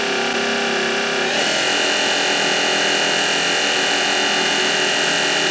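A Tormach 8L lathe spindle spins at 2,500 RPM, a steady dense machine whine with many sustained tonal bands that shifts up in pitch near the start, then holds evenly and loudly throughout with no talk.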